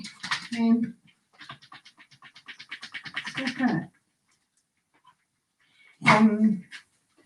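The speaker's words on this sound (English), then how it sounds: "Sorry about the dog, just had a haircut" Recently groomed dog whimpering and panting with some scratching during a hatha yoga class; short bursts near the start and again toward the end, with a person speaking in between.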